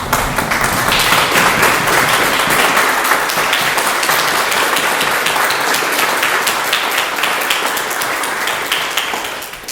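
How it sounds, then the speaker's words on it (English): Sustained applause from a standing audience honoring Mayor Matheny at a Zebulon candidates forum, dense steady clapping throughout, loud and close with no talk. "give Mayor Matheny a round of applause"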